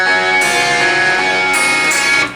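Clean electric guitar playing a short filler lick from a rock ballad, with ringing, sustained notes, loud and close, no talk.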